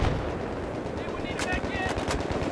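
Rapid automatic gunfire from the video game Battlefield 3 crackles loudly and continuously in dense bursts, with sharper shots standing out partway through over a busy game background.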